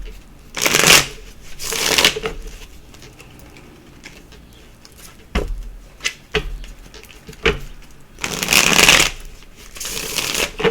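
Playing cards shuffled during a tarot-style reading, with several bursts of riffling and bridging spread across the stretch, close and fairly loud, separated by quieter handling and light taps.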